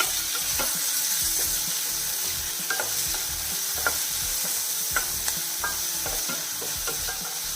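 A medium chopped onion frying in a pan for wheat ada dosa, giving a steady close sizzle broken by regular clicks and scrapes of stirring, with no speech.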